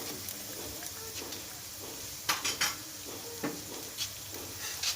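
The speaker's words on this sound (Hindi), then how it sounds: "अब हम इसमें टमाटर डाल देंगे।" Tomatoes go into light-browned onions frying in a pan for bhindi masala and are stirred. A steady sizzle runs underneath several sharp scraping and clattering knocks of the spoon.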